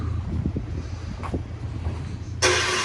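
A 2020 Toyota Tundra Sport CrewMax pickup in cold weather, its engine giving a steady low rumble with wind noise, then a loud broadband rush near the end.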